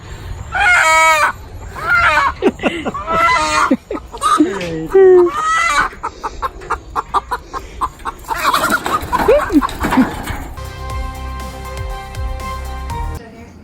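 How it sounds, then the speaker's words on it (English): A hen cackles loudly in repeated, rising calls close by, followed by scattered clucks and then a short stretch of tonal sound. "you sound like a cackling hen"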